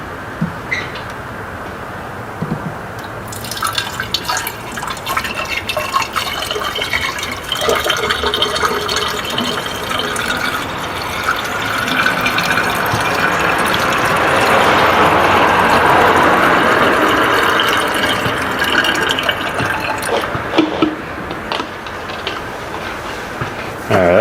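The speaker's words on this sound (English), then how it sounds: "Pour some water in here." Water pours steadily into a car's coolant system for a long stretch, a continuous splashing fill that swells louder midway before easing off, with no talk over it.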